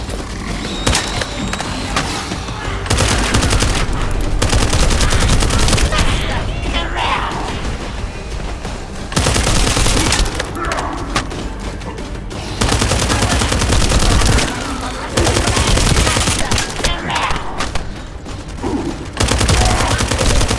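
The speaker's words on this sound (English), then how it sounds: "That stopped the gunfire." Gunfire in the shooter video game The First Descendant: loud, dense bursts of automatic fire and crashing impacts that keep rolling with brief lulls throughout, with a voice heard now and then.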